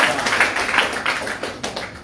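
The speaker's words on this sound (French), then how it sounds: "Applaudissez encore très fort." Applause from an audience at a gathering in Mali: dense, steady patter of many hands clapping, fairly close and sustained for the whole stretch, with no talk over it.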